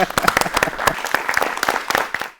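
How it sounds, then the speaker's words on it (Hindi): Studio audience on a Doordarshan television discussion program claps with distinct, fairly close individual hand claps in an uneven rhythm, tapering off at the end. "हम सभी के लिए तालियां जरूर बजाएंगे"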